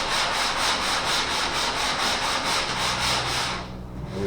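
Wood is sanded by hand with a sanding block in steady back-and-forth strokes, close and even, then it stops near the end.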